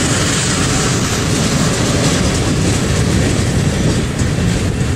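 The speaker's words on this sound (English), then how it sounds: "Some of these old boxcars will have some ATSF rolling stock on them." Freight train with old boxcars rolling past at close range, a loud steady rumble with rhythmic clickety-clack of wheels on rail joints throughout, no voices.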